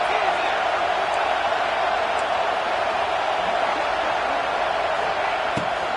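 A stadium crowd at an American football game, at a big third-and-long passing play, roars as a steady, loud, dense wall of noise for the whole stretch, with indistinct voices blended in.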